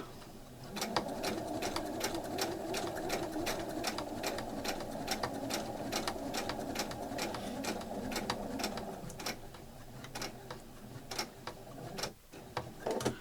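A sewing machine stitches a small fabric coin purse in a fast, steady run of needle strokes, nearby and alone, with a brief dip before the stitching picks back up.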